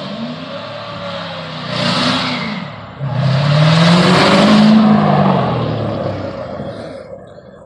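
A supercharged 6.2 liter Corvette Z06 revs hard outdoors, two loud rising bursts of engine roar, the second longer, echoing off nearby buildings before fading.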